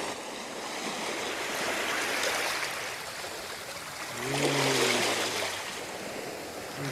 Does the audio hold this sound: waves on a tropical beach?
yes